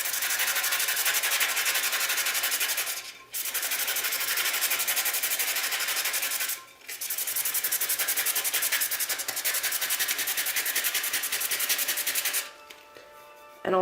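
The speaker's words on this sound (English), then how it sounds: "I just pick a spot and I just start sanding it off" Coarse wet sandpaper rubs steadily against a stainless steel tumbler coated in epoxy, grinding away vinyl in three long, loud stretches of back-and-forth scraping split by brief pauses.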